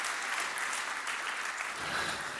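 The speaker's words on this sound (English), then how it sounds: "Let's give them a round of applause, because this is a fantastic event." A conference keynote audience claps steadily and densely throughout, loud and even, like a crowd in a large hall.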